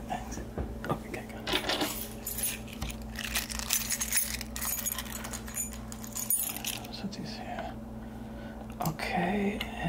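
Car keys jangle and clink during a handover at a service appointment desk, scattered metallic rattles running through most of the stretch, close and soft, with a quiet voice speaking at times.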